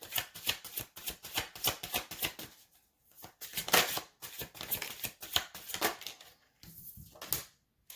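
Tarot cards are shuffled and drawn in repeated quick riffling bursts, soft close flutters and slaps broken by short pauses, with no voice.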